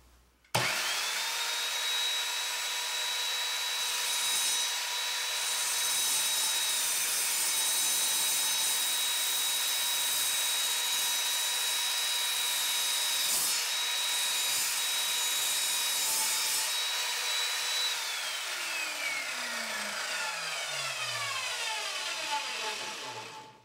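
An Evolution Fury 3S 210mm sliding mitre saw makes a 45-degree cut through wood, its motor starting with a sharp whine, holding a loud steady buzzing roar while the blade cuts, then spinning down with a falling pitch at the end.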